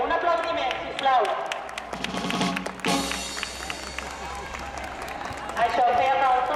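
Audience applause at a spring market prize ceremony for stall awards, a steady wash of clapping through the whole stretch with a voice talking over it near the middle and end.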